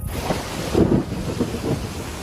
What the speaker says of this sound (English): And then it's Louisiana rain. Look at this. This is nuts.